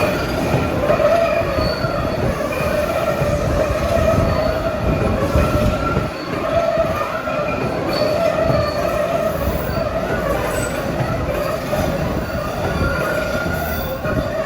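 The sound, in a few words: MBTA Blue Line Siemens subway train looping, wheels squealing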